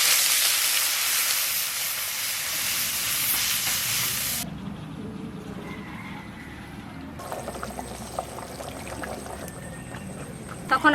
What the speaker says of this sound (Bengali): এবার আলু কষানো হয়ে গেছে, এবার আমি জল দেবো।